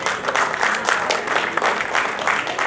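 Enthusiastic audience applause at a felicitation and book release ceremony in Bhopal, a dense, steady wash of many hands clapping throughout, fairly close and loud.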